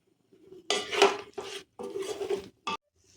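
Rice is scraped and stirred into potatoes in a metal pan in several short bursts of rasping, clinking strokes, with brief pauses between them and no talking.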